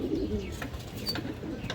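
A large female pigeon, a working breeding hen, gives soft throaty coos close by, mixed with faint chirps and small scattered clicks, without any voices.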